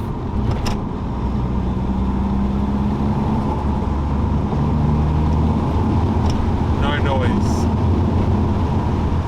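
Steady, loud in-cabin drive drone from a Nissan S13 cruising in fourth gear with a worn driveshaft centre bearing, a low hum running continuously under road and engine noise throughout.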